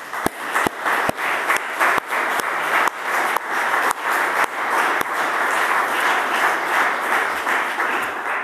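A conference audience at a free-software anniversary celebration breaks into dense, sustained applause, a continuous wash of many hands clapping with a few sharper nearby claps standing out, fairly loud and steady throughout.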